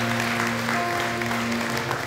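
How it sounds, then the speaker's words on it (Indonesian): A church congregation at an Indonesian Sunday service claps together in a brief, dense burst, with sustained instrumental tones holding underneath. "Berikan tepuk tangan buat Tuhan."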